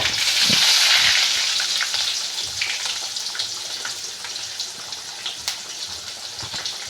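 Mustard seeds and cumin hit hot oil in a pan, giving a loud, bright sizzle that starts strong and settles into a steady crackle with scattered pops, close up and without talk.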